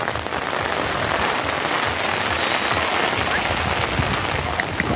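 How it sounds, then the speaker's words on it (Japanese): Steady rain pours down outdoors at a disc dog frisbee competition in Aso, a dense, loud, unbroken hiss of drops striking the ground and surfaces throughout. "今日と明日が一番雨が降っていると"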